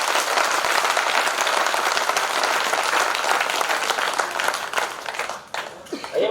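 Loud, dense applause from a poetry gathering audience fills the room continuously, thinning slightly and turning more scattered toward the end.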